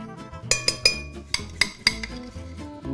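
Metal spoon clinking against a bowl while ricotta is mixed for baked ziti, with a few sharp close taps in two quick groups amid soft scraping, no talking.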